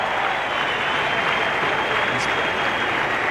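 A cricket crowd at a 1992 World Cup match between Pakistan and South Africa applauds a superb stroke, a dense, steady roar of clapping from a large stadium audience throughout.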